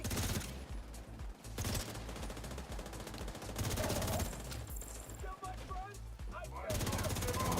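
Dense, rapid gunfire fills a video game raid, with overlapping bursts and shots that barely pause and brief lulls between volleys. Faint voices sit underneath.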